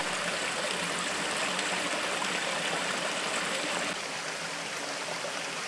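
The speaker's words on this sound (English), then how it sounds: "the well, now full of rubble, still carries the crystal clear water" Clear water from a holy well in woodland flows beneath a small stone bridge, a steady, close rushing trickle that runs unbroken throughout without any voices.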